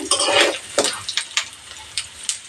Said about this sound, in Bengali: তেলটা খুব ভালো করে গরম করে নিয়েছি তারপর হিট একদম লো করে দিয়েছি এবার ফোড়ন অ্যাড করে দেবো